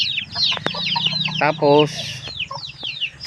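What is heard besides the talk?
hen clucking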